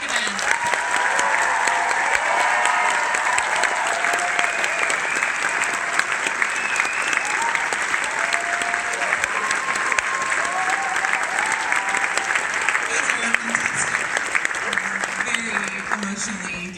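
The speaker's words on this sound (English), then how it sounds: "please give a huge round of applause to the Director, Desiree Akhavan" A theater audience at the Tribeca Film Festival gives sustained applause for director Desiree Akhavan after a screening, a dense, loud wash of clapping with a few cheers, steady throughout and easing slightly at the end.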